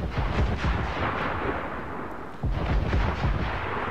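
Naval cannon fire from a sea battle in Assassin's Creed Black Flag: dense, continuous booming barrages rumble throughout, heavy and low, with a brief dip before the volleys swell again.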